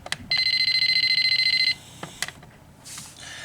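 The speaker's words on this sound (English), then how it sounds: "The annunciator still beeps." A fire alarm annunciator panel sounds a steady, shrill electronic beeping for about a second and a half, loud and close, followed by a few clicks and another brief tone amid faint room noise.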